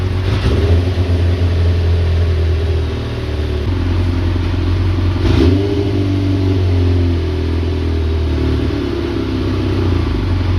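A scrap Kawasaki ZX4 motorcycle engine idling loudly up close, with a steady throbbing drone, slight swells in revs and some mechanical clatter, with no voices.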